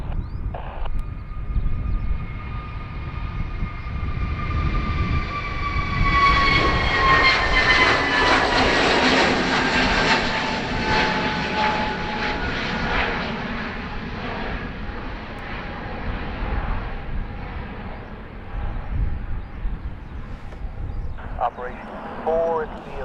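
Aircraft engines at Dublin Airport swell into a loud, steady jet roar that peaks mid-way and slowly fades, heard from a distance with voices talking over it.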